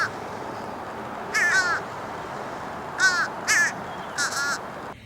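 Fish crow calls over steady outdoor background noise: one harsh caw, then a pair close together, then a final one, moderately loud and fairly near.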